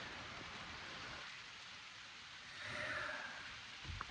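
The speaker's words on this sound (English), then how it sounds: "So it's actually hailing now." Rain mixed with hail falls around an off-grid cabin in a steady, hissing wash, faint and even, swelling slightly toward the end with a light patter of impacts.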